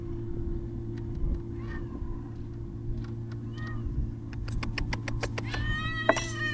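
A small hungry cat meows repeatedly over a steady low engine-like hum outdoors, faint cries at first and then a rapid series of sharper, louder meows near the end.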